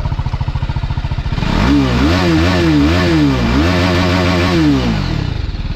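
A TVS Apache RR 310 motorcycle idles with a steady low thrum, then revs hard to a high, rising engine howl that is held through a few throttle blips before dropping back to idle. The engine is close and loud, with no talk.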